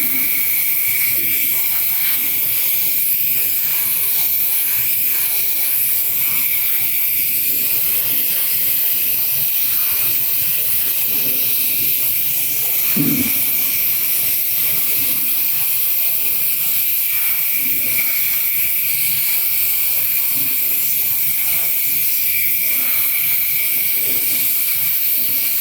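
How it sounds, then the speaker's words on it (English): Airbrush spraying paint at low air pressure, close to a sculpted quarter-scale Thor figure, making a constant, even hiss that runs unbroken throughout. "got my air pressure real low and I'm just spraying close because I don't have the whole body masked off."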